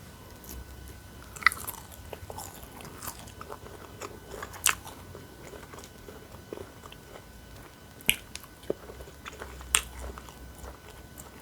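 Someone eats a homestyle green papaya salad with sticky rice, with soft crunchy bites and chewing close to the mic, quiet between sharper crisp crunches scattered throughout.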